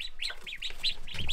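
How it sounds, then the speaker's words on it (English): Ducklings peep in a rapid series of high, close chirps that repeat steadily, with no talking over them. "Hello, ducklings. How are you guys?"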